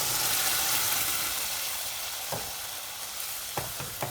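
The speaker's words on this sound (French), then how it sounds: "Allez, maintenant je mets mon coulis de tomates" Tomato coulis sizzles in a hot pan with dry-toasted spices, a steady crackling hiss up close that gradually settles, broken near the end by a few sharp scraping clicks of stirring.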